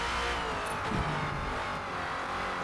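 Steady engine drone from a Ford Falcon FG X race car in Forza Motorsport, held in third gear on the Grand Oak circuit: a continuous, torquey roar at constant level with little revving, no voices.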